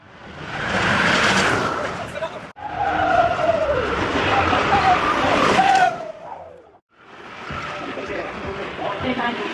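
A bobsleigh rushing down the Lillehammer Olympic bobsleigh run, a loud, sustained roaring scrape of runners on ice with rising and falling whooshes as it passes close, cut by two brief gaps, with voices faintly present.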